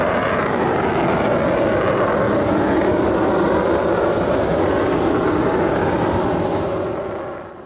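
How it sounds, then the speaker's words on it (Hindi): Pakistan Air Force JF-17 Thunder fighter jet at an air show, a continuous loud, broad roar that holds steady for several seconds before fading slightly at the end. "पाकिस्तान एयरफोर्स के लड़ाका तैयारे JF-17 थंडर ने अपनी कारकर्दगी का शानदार मुजाहरा पेश करके एयर शो का मेला लूट लिया है"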